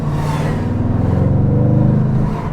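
A 1001-horsepower Audi RS7 accelerates hard, its engine building into a loud, close, deep rumbling roar that swells and pulses before easing slightly.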